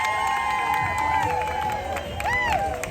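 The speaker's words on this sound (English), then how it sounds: "let's give him a big round of applause" A political rally crowd for Congressman Colin Allred and Vicente Gonzalez in Texas claps, cheers and whoops loudly and steadily for about three seconds, with shouted voices and rising whistle-like calls cutting through the din.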